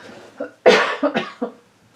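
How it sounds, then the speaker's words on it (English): A short burst of close, harsh coughing, a few rapid hacks in a row, loud and alone. "Hold on, I need to cough."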